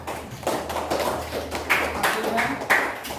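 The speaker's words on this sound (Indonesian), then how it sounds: "Tepuk tangan" Scattered hand claps in a classroom, a thin uneven patter of several people clapping at close range, with sharper claps standing out near the end.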